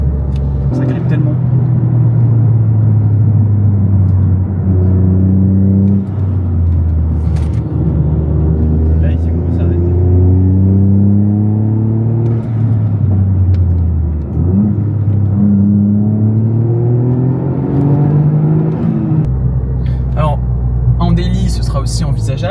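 A Toyota Yaris GR drives on twisty rally-style roads, its engine droning loud and close with rising and falling revs throughout, while someone talks over the cabin noise.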